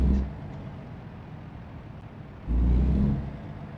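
Simulated truck engine in American Truck Simulator driving with a faint steady rumble, then a louder surge of revving near the end that fades back down, no voices.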